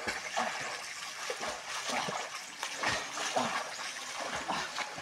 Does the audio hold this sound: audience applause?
no